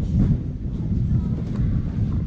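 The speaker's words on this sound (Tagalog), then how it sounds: "Lamig na. Lakas na yung hangin." Strong, cold wind roaring continuously over a microphone on a motorbike ride through Fussa City, a dense low buffeting rumble with no break.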